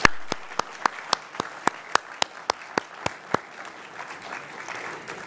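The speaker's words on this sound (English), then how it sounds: "Let's have a round of applause." A round of applause at an evening public forum: a dozen sharp, evenly spaced claps ring out clearly in a large room, then fade into quiet room tone and a faint voice.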